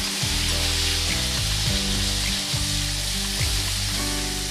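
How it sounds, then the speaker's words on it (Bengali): Chopped onions fry in hot oil for a chicken curry with potatoes, giving a steady, loud sizzle throughout with stirring and scraping sounds; no one speaks. "দিয়ে ভালো করে পেঁয়াজগুলো ভেজে নেব"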